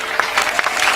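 A church congregation claps during a sermon, a dense close burst of applause with quick overlapping hand claps filling the short moment.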